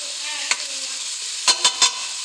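A palmful of garlic sizzles in a pan for Italian meat sauce, a steady bright hiss broken by four sharp scraping stirs, one early and three quick ones in a row near the end.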